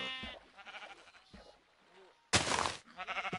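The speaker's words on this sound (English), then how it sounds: "There's sheep here." Sheep bleating in the video game Minecraft, several short wavering bleats that come close together against quiet background, with a louder burst partway through.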